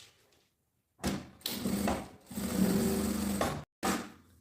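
Sewing machine stitching a zipper channel and its lining, in several close whirring runs of a second or more separated by brief silent pauses.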